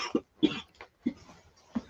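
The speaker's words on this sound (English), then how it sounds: "I hear coughing." A person coughs in several short, sharp bursts spaced about half a second apart after a weed hit, close and alone with no talking.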